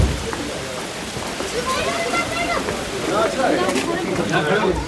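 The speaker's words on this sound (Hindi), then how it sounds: "इंटरव्यू करते करते बारिश शुरू हो गई है" Steady rain pours down with a constant wash of drops, while people talk over it.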